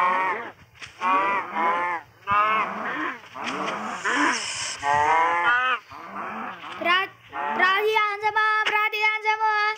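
Cattle in the WildCraft animal game mooing in a long run of loud, overlapping calls, one drawn-out moo after another with only brief gaps and no talking.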